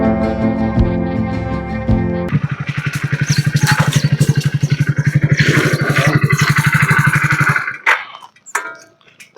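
A motorcycle engine starts up and runs with a steady, loud, rapid mechanical chug close by on a village road, then cuts out near the end.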